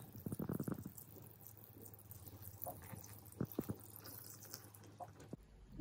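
Water with salt and sugar poured into a jar of cabbage and carrot for pickling, a close splashing pour at the start followed by quieter trickles and drips.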